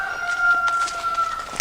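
A rooster crows once outdoors, a drawn-out call of moderate loudness with faint birdsong and rustling in the background.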